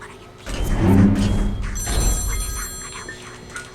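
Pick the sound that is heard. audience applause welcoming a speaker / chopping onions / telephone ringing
telephone ringing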